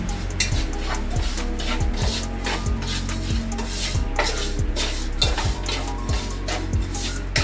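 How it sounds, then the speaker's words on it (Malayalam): Semolina (rava) being stirred in ghee in a pan, heard as rapid, rhythmic rasping scrapes of a spoon against the pan bottom, close and continuous. "നമുക്ക് ഈ റവ നന്നായിട്ടൊന്ന് ഇളക്കാം."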